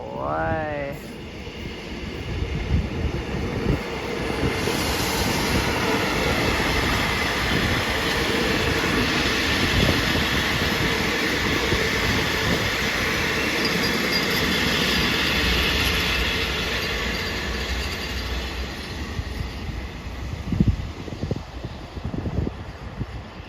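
An SRT diesel locomotive train rolls past near Hin Lap station on a mountain line, a loud sustained rumble with wheel clatter and a brief horn at the start, building and fading.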